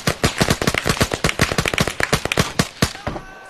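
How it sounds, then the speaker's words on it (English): Rapid hip-fired automatic gunfire in a co-op shooter video game, a loud close string of sharp, evenly spaced shots lasting several seconds before cutting off. "Fucking hip fire is not good."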